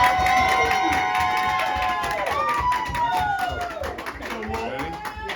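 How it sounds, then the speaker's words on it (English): An audience claps and cheers for a high school girls' basketball award winner at a Miss Basketball ceremony, steady clapping blended with raised voices and chatter throughout. "You can clap, everybody."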